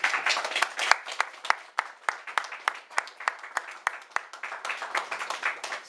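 A church congregation breaks into steady, sustained applause after a Bible reading, many hands clapping together at close range with no voices over it.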